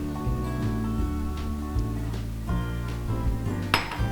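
Peanuts go into a hot pan of melted jaggery with a run of metallic clinks and rattles against the pan, mixed with a low steady hum. The sound is close and fairly loud, with no talking.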